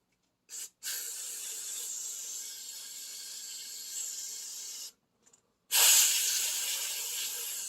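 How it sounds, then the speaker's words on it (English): Aerosol carburetor cleaner hisses onto the jets of a Triumph hardtail bobber motorcycle: a short puff, then a long steady spray, a tiny blip and a final strong, close burst. "Yeah, she'll need a little bit of spray."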